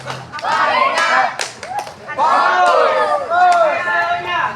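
Students in a classroom perform a patterned clapping routine led by a teacher, with sharp clap bursts set between chanted voices and talk, close and fairly loud.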